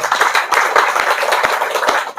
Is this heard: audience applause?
yes